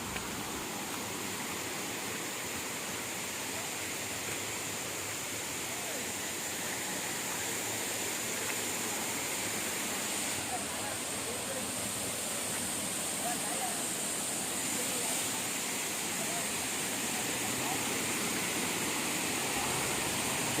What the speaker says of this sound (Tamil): சவுண்டு கேட்குதுங்க, அருவி சவுண்டு